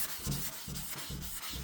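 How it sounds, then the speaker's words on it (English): Sandpaper rubs back and forth over a guide-coated car panel during a blue pearl paint job, making several rhythmic, close scratchy passes with no voices. "when I go to sanding on it, like you see, I can give it a few passes for good measure"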